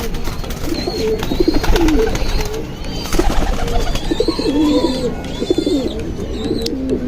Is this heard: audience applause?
no